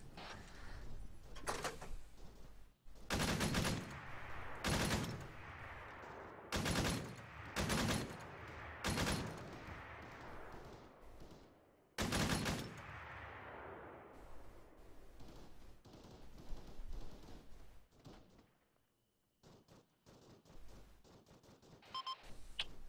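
Heavy gunfire in an Arma 3 battle, with loud bursts and single shots cracking out at irregular intervals over a noisy, rumbling background, then thinning to scattered distant shots near the end.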